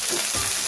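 Crickets sauté in a hot pan, giving a brief, steady, close sizzle with a soft stirring texture and no talk.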